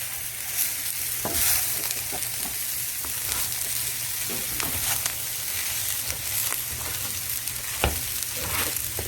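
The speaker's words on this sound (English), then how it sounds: "this is how we want this rice to fry." Guyanese fried rice with sausage and shrimp sizzles steadily in a hot pan, with scattered scrapes and clinks of stirring through the continuous crackle.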